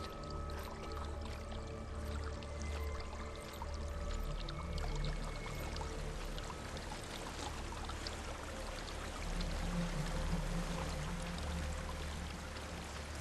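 Water pours and flows steadily in Hellblade: Senua's Sacrifice, a soft continuous stream running under low ambient tones with no talk.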